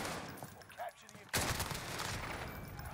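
Gunfire in the video game Warzone, Caldera map: a sudden loud burst of shots breaks in about a third of the way through, then rapid automatic fire continues densely to the end, with faint voices beneath.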